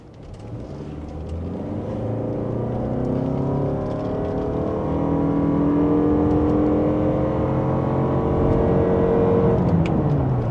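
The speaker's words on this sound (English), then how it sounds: "Let's do a little bit of acceleration just to see if we can get anywhere on the motorway" A Toyota Alphard 2.5L hybrid minivan accelerates steadily on a motorway, its tone rising with a smooth, sustained whir and road roar, loud and close, no talking.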